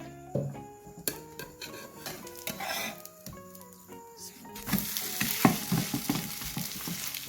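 A flipped breakfast item fries in hot oil with a lively crackling sizzle that grows louder near the end, mixed with clinks of a utensil against the pan and faint tonal background sounds.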